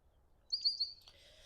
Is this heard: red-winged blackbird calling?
yes